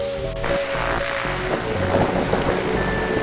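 Steady rainfall in the detective adventure game The Darkside Detective, a continuous close hiss with a low rumble beneath and occasional tonal game sounds layered over it.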